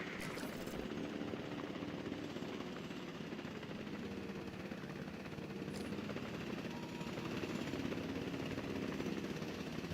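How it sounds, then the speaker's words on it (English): A helicopter in the video game Jurassic World Evolution 2 hums and churns faintly. Its rotors drone steadily through the whole span, with no speech. "I need a helicopter. Assets in the air."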